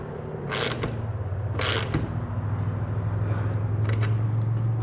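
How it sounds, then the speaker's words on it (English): Socket wrench with a 9/16 inch socket tightening ladder rack rail bolts on a pickup truck bed, giving short bursts of ratcheting clicks over a low steady hum. "You just need a 9/16 inch socket to tighten this down."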